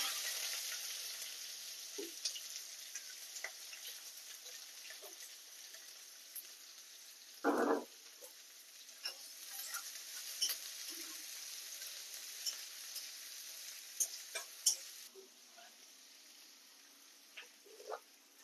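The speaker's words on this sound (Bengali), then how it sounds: "এবার পেঁয়াজগুলো একটু লাল লাল করে ভেজে নেব।" Onions frying in a pan with cumin and a dried chilli, a faint, steady sizzle with light crackles and one brief louder scrape of stirring midway.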